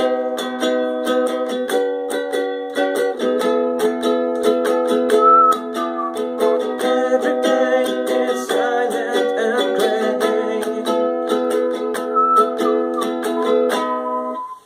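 A song played on ukulele, a continuous run of steady strummed chords with some picked melody notes, close, clear and unaccompanied.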